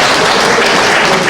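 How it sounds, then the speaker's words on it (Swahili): A church congregation at a Kajiado gathering breaks into loud, dense applause, many hands clapping together in a sustained roar close to the microphone, with no pauses. "tupigie makofi"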